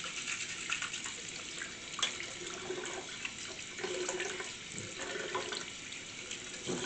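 Running tap water rinses toothpaste off polished silver in a sink, a steady close hiss and splash that lasts throughout with small shifts in the flow and nobody talking.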